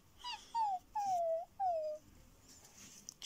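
A puppy whimpers three times in a row, each a thin, high whine that slides downward, fairly close and clear, followed by a few faint rustles.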